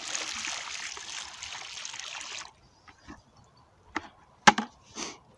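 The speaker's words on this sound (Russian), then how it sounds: "И вливаем первое ведро воды." A bucket of water is poured into a grapevine planting hole, a steady gushing pour that stops abruptly, followed by a few scattered soft thuds and rustles.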